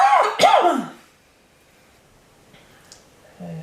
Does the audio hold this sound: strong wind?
no